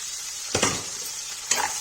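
Steady hiss of onion, garlic and green chili sizzling in hot oil with cumin, with two brief louder bursts as ingredients are stirred or tossed in the pan.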